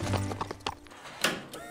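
Foals' hooves clop in a horse cartoon, a few quick close hoof knocks mixed with a brief whinny over about two seconds.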